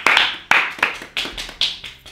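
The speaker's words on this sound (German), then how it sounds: "Applaus" Audience clapping in short bursts of a few claps each, fairly close and loud, with brief gaps between the bursts.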